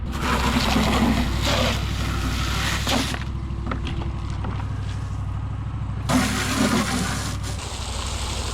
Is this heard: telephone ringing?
no